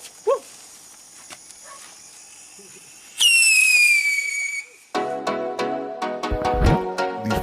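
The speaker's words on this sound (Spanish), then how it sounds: "aquí anda un silbador y se lo voy a tirar para ustedes" A whistling firework is set off outdoors beside a bonfire: a loud, shrill whistle sweeps for about two seconds, then gives way to crackling bursts and harsh, voice-like noise.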